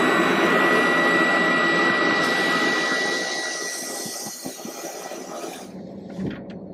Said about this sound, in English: We're taking it for the vacuum.